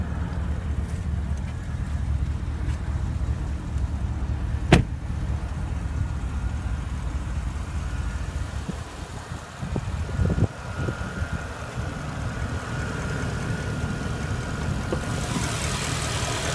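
A 2015 Porsche Panamera Turbo with a 4.8-liter twin-turbo V8 runs at a steady, low idle, heard up close under the open hood, with one sharp click near the middle and no talking.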